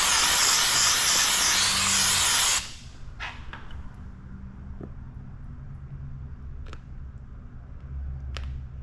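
A steamer hisses loudly and steadily for about two and a half seconds while paint protection film is stretched onto a Harley-Davidson motorcycle, then cuts off sharply, leaving quiet handling noises and faint clicks.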